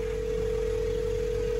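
A steady telephone tone plays while a call is placed in Vietnam, one unbroken hum with no talk over it, fairly loud and close.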